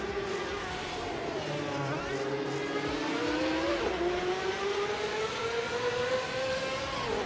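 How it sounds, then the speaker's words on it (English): A 1994 Ferrari 355 Challenge race car engine in a racing game, a high-pitched whine rising steadily through the gears with a brief shift dip, heard under a voice talking. "driving a Ferrari 355 Challenge from 1994"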